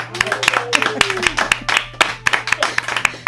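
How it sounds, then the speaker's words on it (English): A small studio audience on a music quiz show claps in a brisk, uneven patter of distinct, sharp hand claps over a low steady hum, lasting a few seconds. "Let's give Donnie a round of applause."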